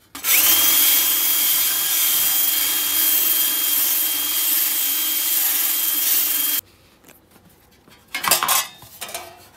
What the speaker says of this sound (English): I'm going to go over it with a wire wheel on a drill just to clean it up a little better